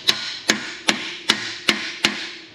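Six loud, evenly spaced hammer blows, about 0.4 seconds apart, drive a part into a 2012 Chevrolet Avalanche 5.3 4x4 with a bigger hammer, each sharp metallic strike ringing briefly before the next.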